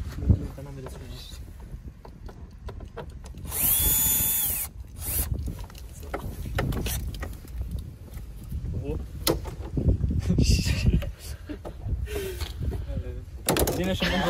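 Cordless screwdriver whirring in short loud bursts during a DIY job, mixed with clunks and handling noise while people talk in German throughout.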